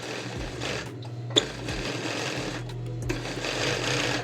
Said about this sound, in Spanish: Ahora voy a pasar un pespunte al ancho del pie